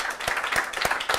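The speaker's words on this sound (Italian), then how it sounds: "scatta l'applauso" A studio audience at a live football television show claps in a quick, even rhythm, several sharp hand-strikes close together in a brief burst.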